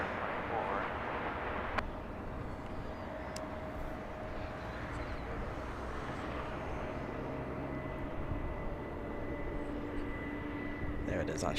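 A China Airlines Boeing 777 from Taipei on short final approach at Los Angeles International Airport gives off a continuous low, broad jet rumble under distant air traffic radio chatter and talk.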